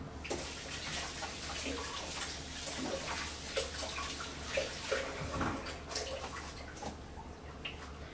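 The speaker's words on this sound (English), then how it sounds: "I'm going to quickly rinse my hands." Water runs from a tap while hands are rinsed under it, a soft steady splashing with small gurgles and drips, faint and close, with no talk.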